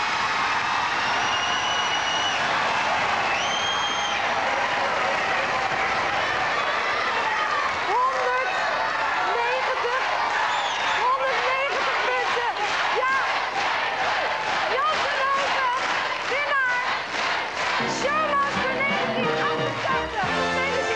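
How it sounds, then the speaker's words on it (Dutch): Studio audience applause on a 1989 Dutch television game show, a dense, steady wash of clapping and crowd noise throughout, with a voice speaking over it partway and whistling or cheering near the end. "Uw applaus graag voor Willem Bol."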